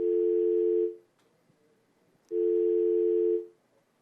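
Telephone tone on a dropped call line, two steady beeps of about a second each separated by a silent gap, clean and alone.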